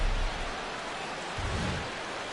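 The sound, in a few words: rain falling at the stadium in a PS4 baseball video game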